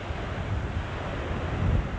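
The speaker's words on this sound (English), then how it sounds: "Damn shame about the wind." Strong wind gusts across an open lakeshore at Alligator Lake, a steady roaring rush with heavy low rumble and buffeting against the microphone, with no voices.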